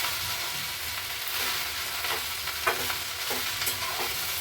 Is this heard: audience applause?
no